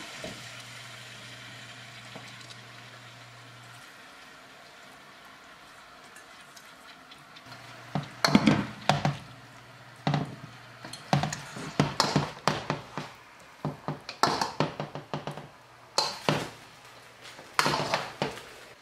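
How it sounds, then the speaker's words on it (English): Noodles stirred and heated in a pan for vegetarian pad thai: quiet at first, then a run of sharp scraping and tapping strokes of utensil on pan in irregular bursts, fairly close. "I'm going to add the noodles and just mix it around until the noodles are heated through"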